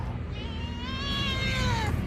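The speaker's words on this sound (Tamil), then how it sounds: "பூனை வேறு." A cat gives one long, drawn-out meow with a rising then falling whine, fairly close, over a steady background hum.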